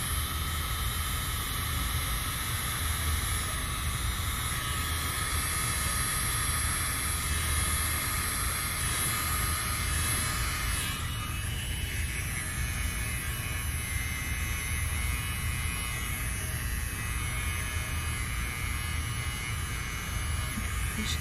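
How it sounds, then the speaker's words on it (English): A tiny electric blower pushing paint, a continuous steady whirring hiss of air that holds constant and close throughout. "we're gonna get out the world's smallest blower and do that"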